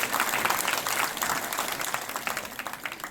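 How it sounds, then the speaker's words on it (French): Clapping from the crowd at a summer hypnosis stage show, moderately distant and fairly quiet, a steady patter of many hands with uneven peaks. "On l'applaudit, on l'encourage"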